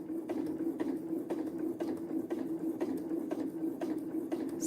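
Sewing machine stitching a narrow hem along a curved fabric edge, a soft steady hum with regular ticking pulses, close and fairly quiet with no talk.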